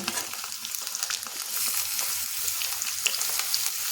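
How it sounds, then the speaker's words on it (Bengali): Boiled potatoes and chopped capsicum frying in hot oil in a pan, a continuous bright sizzle with small crackles throughout, close and fairly loud, no voices. "ক্যাপসিকামের সঙ্গে আলুটা এখন ভেজে নেব"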